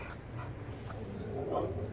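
A dog whimpers in short, soft, high whines over quiet panting breaths, close by in a garage where a 2008 Toyota FJ Cruiser fuel pump is being replaced.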